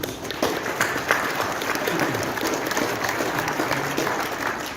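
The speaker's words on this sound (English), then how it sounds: "could we have a moment of applause for Brian Chater, please?" Dense, sustained audience applause at a memorial tribute gathering for figures of the Canadian music industry, loud and steady throughout with no break.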